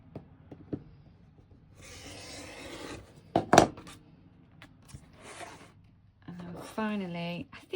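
Fabric for a quilted bookmark being trimmed in a craft session, with close scraping and rasping cuts in several bursts, a sharp snip partway through, and brief talking near the end.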